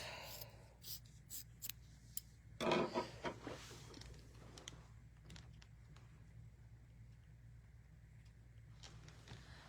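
Scissors trimming fabric while assembling a Riley Blake tabletop banner, a few short crisp snips and a brief louder cutting burst near the start, close and fairly quiet over a low steady hum.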